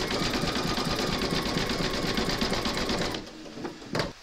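An embroidery machine stitches a skeleton applique with a rapid, steady mechanical chatter, loud and close. The stitching stops near the end, leaving a couple of small clicks.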